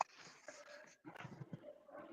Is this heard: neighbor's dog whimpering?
yes